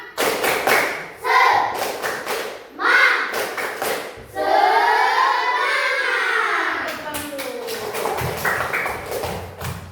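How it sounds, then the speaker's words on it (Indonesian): Children in a classroom repeat a tepuk semangat spirit clap: crisp patterned clapping in quick groups, broken by group chants and a long drawn-out shout, then more rapid claps to finish. "Satu kali lagi, tepuk semangat."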